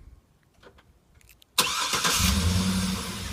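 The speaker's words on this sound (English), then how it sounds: "what you do to remote start it is lock it twice" A 2013 GMC Yukon Denali starts by remote start: a few faint clicks, then a sudden loud engine catch that settles into a steady, close idle.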